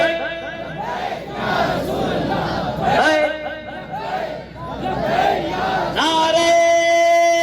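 A crowd at a Milad un Nabi gathering chants religious slogans such as Labbaik in loud call-and-response bursts, voices swelling together in waves over constant crowd noise.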